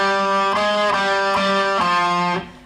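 Distorted electric guitar plays a short repeating lead phrase from a song's solo, four picked notes looping with a steady rhythm, loud and close, then fading out at the end.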